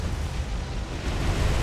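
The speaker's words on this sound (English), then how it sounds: "it's Zuiho now suffered a magazine explosion." A magazine explosion aboard the Japanese carrier Zuiho in War on the Sea, heard as a sustained, heavy low rumble that rolls on steadily and loudly without letup.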